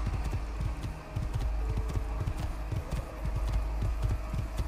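A horse gallops steadily in the video game Assassin's Creed 2, hooves thudding in a fast, continuous rhythm against a dense game background.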